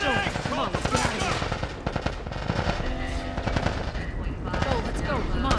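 Dense gunfire in The Last of Us Part 1 during a fight with Fireflies, rapid repeated shots and bursts crackling over one another, loud and nearby, mixed with shouting voices throughout.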